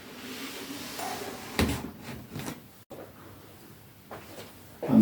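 A heavy, overloaded drawer of drill bits slides open or shut with a couple of scraping wooden rumbles and thuds, close by in a quiet workshop.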